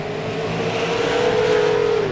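Late model race cars at Langley Speedway roar past loudly and up close, a sustained engine howl with a sliding pitch as the cars sweep by.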